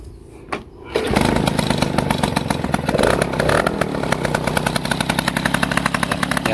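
A Peugeot 103 moped engine catches after a brief starting attempt and settles into a loud, close, rapid two-stroke running rhythm, buzzing steadily without pause.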